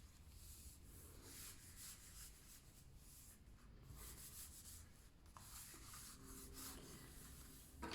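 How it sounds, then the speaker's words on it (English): Paper glued onto a folio is rubbed down firmly with a bone folder, giving a steady, soft dry scraping that runs continuously for several seconds, close and quiet with no talking. "so give that a good burnish"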